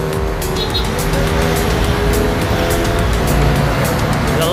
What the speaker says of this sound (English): The lights and sounds of Manila.